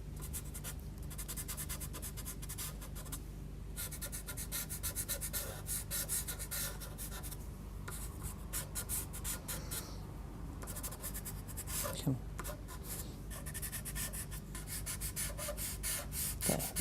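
A white pastel pencil scratches thin cloud lines across paper in short, repeated strokes, close and quiet, with brief pauses between bursts of rubbing.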